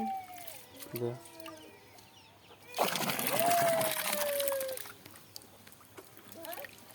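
Hens clucking intermittently in a farmyard, with a burst of broadband noise in the middle and a voice speaking faintly at times.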